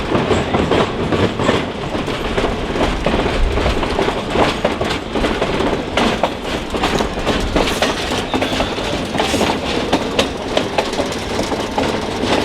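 A tourist train with a caboose rolls steadily along the rails through Verde Canyon, loud and close, with continuous rumbling and rhythmic clickety-clack of wheels and no one speaking.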